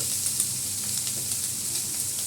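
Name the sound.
ginger paste sizzling in hot mutton fat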